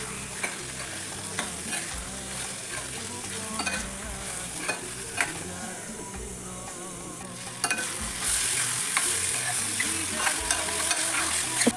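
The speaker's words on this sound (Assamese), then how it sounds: "এতিয়া মই ইয়াতে কেঁচা মটৰখিনি ঢালি দি দিলোঁ। এইখিনিও মই 10 মিনিটমান ল' টু মিডিয়াম ফ্লেমত ভাজি থাকিম।" Raw green peas frying over low to medium flame in a pan for Assamese-style matar paneer curry, a steady crackling sizzle with intermittent stirring clicks, growing somewhat louder toward the end, no voices.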